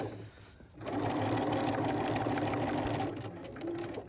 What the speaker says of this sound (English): Okay, I'm going to sew the other side of the X.